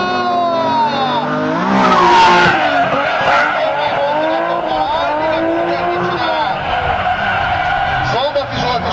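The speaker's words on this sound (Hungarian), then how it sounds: "szépen ég alatt a kerék, gyönyörűen fordítja át, tartja az ívet" Drift car sliding through a long arc at a drift event, tires squealing and burning continuously under a roaring engine, loud and close, with an excited commentator talking over it the whole time.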